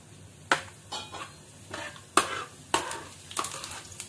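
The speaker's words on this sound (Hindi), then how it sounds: "अब हम इसमें जीरा डालेंगे।" Cumin seeds are stirred in hot oil in a kadhai, with sharp metallic scrapes and clinks of a spoon against the pan coming in repeated bursts over a faint sizzle.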